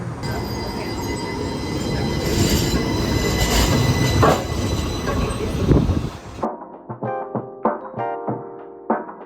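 Sun Link streetcar in downtown Tucson, its wheels squealing loudly over a rumbling ride for about six seconds, then cutting out to quieter intermittent clunks and tones, up close with a bit of speech in the background.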